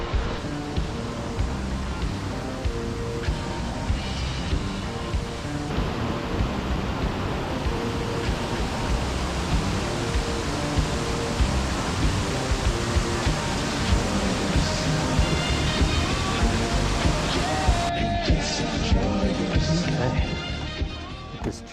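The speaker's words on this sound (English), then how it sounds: "there's this large waterfall straight ahead." A large waterfall in the Trinity Alps gives a steady, loud, rushing roar of falling water that fills the whole stretch with unbroken broadband noise before easing slightly at the end.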